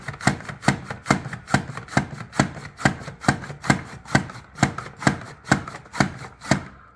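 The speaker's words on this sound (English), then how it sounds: "Now we're chopping up the cabbage" Cabbage being chopped with a knife on a cutting board, an even, brisk series of about twenty crunchy thuds, close and clear, with no voices.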